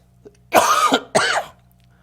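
Two harsh, forceful coughs from a pastor with a lingering cough during a church service, close to the mic, about half a second apart, with a quiet electrical hum underneath and no talking.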